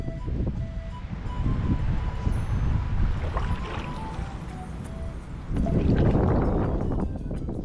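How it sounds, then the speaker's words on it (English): Wind gusts over open water during a kayak fishing outing, a steady low buffeting rumble that swells louder near the end, with no talking. "I'm no fan of the wind, that's for sure."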